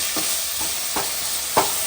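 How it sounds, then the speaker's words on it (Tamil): Chopped tomatoes sauté in a pan under a continuous sizzle, with four rhythmic scraping strokes of a spoon stirring them, close and fairly loud. "தக்காளி சேர்த்து நல்லா வதக்கிடலாம்."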